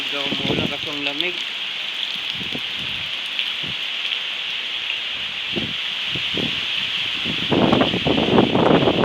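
Rain falls in a steady hiss through the rainy season amid strong wind, with scattered nearby drips and some low thumps and voices mixed in.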